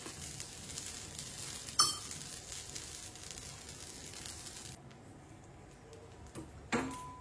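Set dosa batter cooking on an oiled pan, a quiet steady sizzle with a couple of sharp utensil clicks, the frying fading lower toward the end with no voices.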